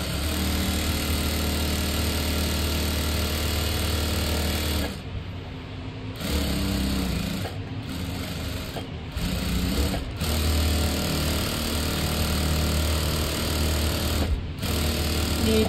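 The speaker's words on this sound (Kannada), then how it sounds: "ಇಲ್ಲಿ ಇನ್ನೊಂದು ಸ್ಟಿಚನ್ನು ಹಾಕೋಣ" A sewing machine stitching palazzo pants runs loud and steady in a fast mechanical chatter, with brief pauses and restarts between seams.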